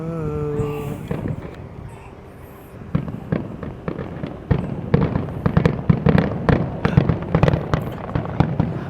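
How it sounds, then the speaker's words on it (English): Fireworks at Epcot at night send sharp bursts and crackling pops at an uneven pace, growing denser and louder through the second half, with a faint low musical tone near the start. "thank you for joining us for the Epcot fireworks tonight"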